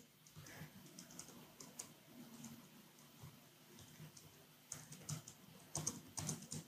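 Close, quiet keyboard typing as a code comment is entered on a computer, with irregular clusters of soft key clicks that grow busier and louder toward the end, and no talking.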